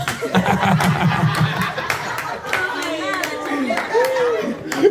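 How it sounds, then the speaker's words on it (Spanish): Studio audience at a couples game show clapping in scattered, uneven bursts while people chuckle, laugh and chatter over it, close and lively. "Vamos a aplaudir."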